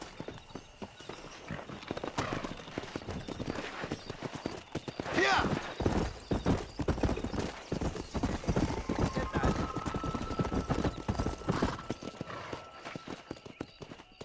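Horses gallop in Red Dead Redemption with a steady, dense clip-clop of hooves running throughout, and a brief whinny partway through, while voices talk over the hoofbeats.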